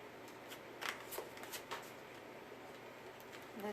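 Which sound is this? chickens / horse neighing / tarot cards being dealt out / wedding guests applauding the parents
tarot cards being dealt out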